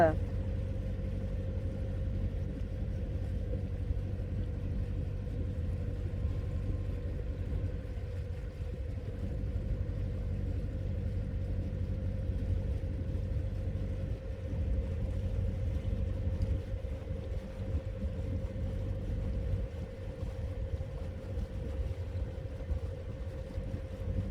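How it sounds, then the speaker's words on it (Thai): A boat cruises on the Black River in Holland, giving a steady, low engine drone with a constant hum and some wind noise throughout. "ล่องเรือในแม่น้ำ Black River แม่น้ำสีดำเลยจ้า"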